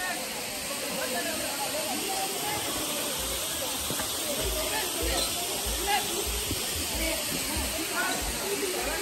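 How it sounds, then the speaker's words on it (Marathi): A waterfall with a low flow roars in a constant broad hiss of falling water heard nearby, while people talk over it. "पाणी बघा त्या तिकडून पडतं तरी."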